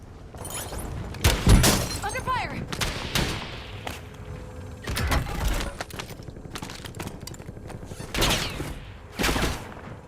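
Gunfire in the Warzone video game: repeated bursts and volleys of shots, some near and loud, others farther off, scattered across the span with brief pauses between clusters.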